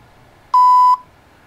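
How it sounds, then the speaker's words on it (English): A single short electronic beep sounds from an Android-controlled Bluetooth device, a clean steady tone lasting under half a second in a quiet room. "it will beep."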